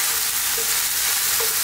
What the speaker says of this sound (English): We're now going to put in our eggplant